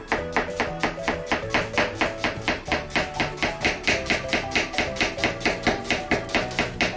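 A knife finely mincing an onion on a cutting board, the blade angled rather than dropped fully, gives a steady fast series of crisp, close taps, about three per second, with no talk.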